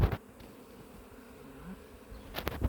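A steady, low droning hum of a colony of about 20,000 bees buzzing together, close by, bracketed by a couple of brief handling thumps.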